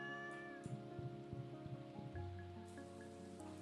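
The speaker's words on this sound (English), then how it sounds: "We gotta pet our cat" A pet cat meows in Stardew Valley, a few soft short mews over steady in-game rain and a light melodic music backdrop, quiet and without talking.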